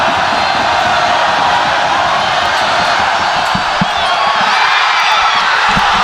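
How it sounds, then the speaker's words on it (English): A basketball arena crowd during an overtime game roars in a dense, continuous wall of cheering and shouting, loud and sustained, with occasional thuds and shouts poking through. "The crowd getting louder."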